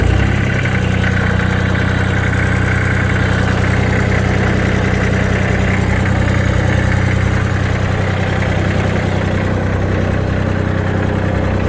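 Japanese mini tractor engine running at a steady idle while its rotary tiller is raised and lowered, a loud, continuous low rumble with even vibration throughout and no speech.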